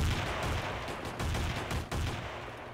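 Rapid synthetic gunfire and explosions from a self-made horror video game as emoji enemies are shot and blown up, a dense loud barrage of bursts with no talking.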